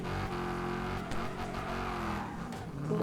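A race car in the Wreckfest 2 racing game, automatic gears, strains loudly uphill with a steady droning engine and a drawn-out tire skid near the end, with no voices.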